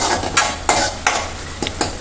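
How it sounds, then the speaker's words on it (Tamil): Tomatoes and rasam ingredients sizzle in a pan while a spoon scrapes and stirs in several short, rhythmic strokes, close and clear with no talking. "லைட்டாக அந்த பச்சை வாடை போகிற மாதிரி வதக்கணும்."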